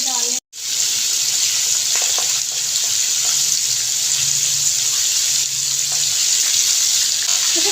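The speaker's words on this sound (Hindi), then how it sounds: "इसी तरह से मैं सारी फ़िश फ्राई कर लूँगी" Fish sizzling steadily in hot oil in a home kitchen while a masala fish dish is being fried, a continuous close hiss of frying that runs on without breaks, with no talking over it.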